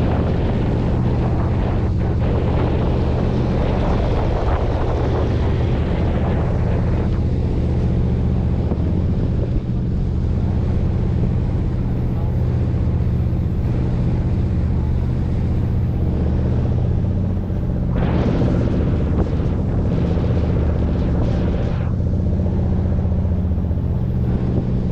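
A bote-bote boat engine runs steadily in a continuous low, droning rumble throughout, with wind buffeting the microphone and a brief louder surge near the end.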